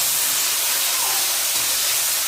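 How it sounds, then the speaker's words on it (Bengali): Steady, loud hissing sizzle of ginger, cumin and pepper being sautéed in hot oil, a continuous bright frying noise with no pauses, close up and alone. "মানে আদা জিরে গোলমরিচ বাদা তেলের মধ্যে সব ভালো করে কষাবো"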